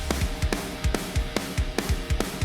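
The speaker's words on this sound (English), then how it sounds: "Let's go over to the verse because it's just a bunch of snare drums going pa" Repeated snare drum hits carry a rock song verse, striking in a steady pattern over a driving kick and full band mix, close and loud with no talking.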